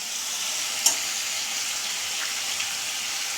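Chicken frying in a pan gives off a steady bright sizzle, close and continuous, with a small sharp crackle partway through and no talking.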